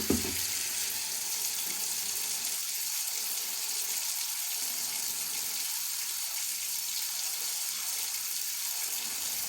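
Steady broadband rush of water pouring into an O'Cedar spin mop bucket, continuous and fairly close, running the whole time with no voices.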